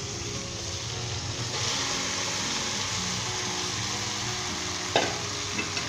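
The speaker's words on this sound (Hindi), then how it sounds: "चलो दोस्तों अच्छे तरीके से स्टर कर लें, हिला लें।" Boiled macaroni being stirred into tomato sauce in a pan, a steady close sizzle with soft scraping and stirring throughout, no voices.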